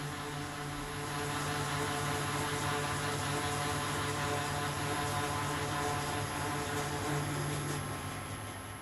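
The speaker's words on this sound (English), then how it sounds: "Since this knurl is somewhat coarse, it makes a coarse sound." A coarse knurling tool cuts a knurl into a workpiece turning on a lathe, making a steady, dense grinding roar that holds evenly for several seconds with a faint high whine running underneath.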